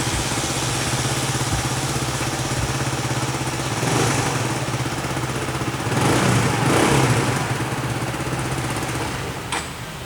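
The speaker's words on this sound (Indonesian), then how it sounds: "ini ada bunyi knalpotnya agak sedikit bocor" A Honda Supra GTR motorcycle engine idles steadily up close, its slightly leaking exhaust giving a raspy, puttering tone, with a couple of brief swells in revs and no one speaking.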